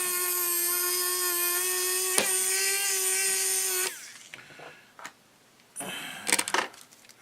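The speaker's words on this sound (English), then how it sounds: "Love this little screwdriver. Works absolutely wonderful." A small electric screwdriver whirs steadily for nearly four seconds as it drives screws into a model airplane servo tray, then stops, followed by a few brief clicks and handling noises close by.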